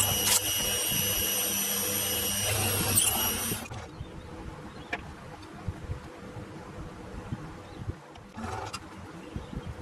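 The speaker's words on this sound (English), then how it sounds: "So now I want to drill two holes in here and tap them" A drill bores two holes into a metal part of a homemade tool and cutter grinder. A steady, bright whine runs close for the first few seconds, then stops, leaving faint workshop clicks and a short later burst.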